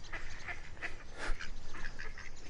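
Repeated duck quacks, several short calls spaced through the moment, fairly close with steady outdoor background noise and no talking.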